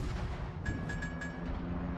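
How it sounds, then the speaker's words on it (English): Battleship gunfire in the World of Warships video game, heard as a steady low rumbling barrage of booming shots with a thin tonal whine over it, continuous and fairly loud throughout. "I'm playing a Harbin and I'm being shot at by battleships"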